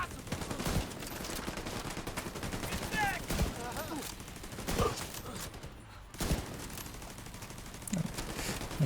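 Rapid turret gunfire in a video game, dense sustained bursts of shots layered with explosions and game noise, loud and continuous throughout with voices talking over it.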